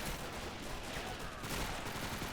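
Close-range infantry gunfire in the World War II strategy game Men of War Assault Squad, a dense continuous rattle of rifle and machine-gun shots, loud and unbroken throughout.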